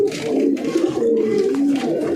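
Pigeons coo close by in a home loft, soft throaty rolling calls overlapping continuously with a low murmuring texture and no speech over them.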